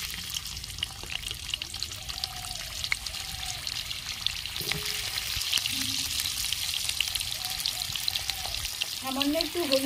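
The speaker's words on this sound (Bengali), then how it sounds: "কড়াইয়ের তেল গরম হয়ে গেছে, এবার আমি আলুগুলো ভেজে নিচ্ছি।" Potatoes fry in hot oil in a wok in a rural kitchen, giving a steady bright sizzle throughout with a few low scraping and stirring knocks near the end.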